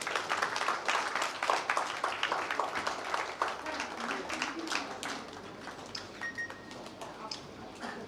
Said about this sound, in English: Give a big round of applause for ma'am.